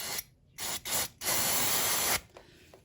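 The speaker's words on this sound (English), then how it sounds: "I'm going to give it a quick clean with some brake cleaner" Brake cleaner sprayed onto the rear brake caliper of a Mazda MX-5 NC Miata, close and loud: three short hissing bursts followed by one long sustained spray of nearly a second, then quiet.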